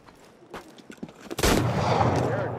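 Gunfire in the video game Assassin's Creed Unity: a few scattered sharp reports, then a loud burst of shots at about 1.4 seconds that rolls into a sustained, dense roar to the end.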